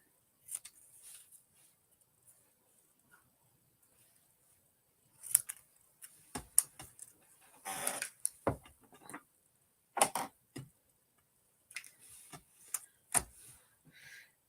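Paper cut with snips during Stampin' Up! papercraft, heard as scattered crisp snipping clicks and short cuts, close and fairly quiet, separated by near silence and some light handling rustle.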